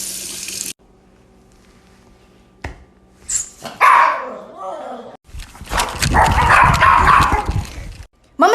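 A pet dog barks in bursts at home, sharp loud barks clustered with energetic noise near the end, alongside running water from a sink and brief quiet gaps.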